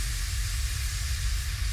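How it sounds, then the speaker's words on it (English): Steam venting from the Titanic during a real-time sinking simulation, a continuous steady hiss and low rumble with no pauses, fairly faint and heard alone. "Steam is still being exhausted from the ship"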